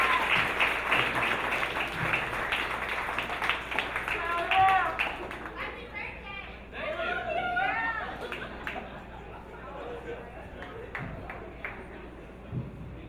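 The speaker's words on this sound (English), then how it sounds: "Can we give another round of applause for Ezana?" A comedy club audience applauds and cheers after a stand-up set, clapping strongest early then thinning, with voices chattering and a few whoops over the fading claps.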